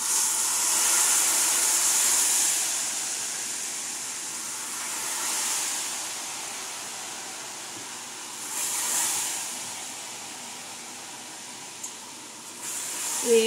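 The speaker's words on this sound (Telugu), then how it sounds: "ఇప్పుడు మనం ఈ ఆయిల్ అల్లం పచ్చళ్ళలో వేసేయండి డైరెక్ట్" Hot peanut oil poured straight onto ginger pickle makes a hissing sizzle that swells in several waves and then settles, with a small clink just before the end.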